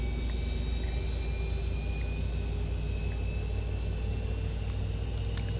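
Jet engines of a Boeing 737-800 spool up in X-Plane 11. The whine is steady and loud, with layered tonal hums and a rising high pitch, and no speech is heard.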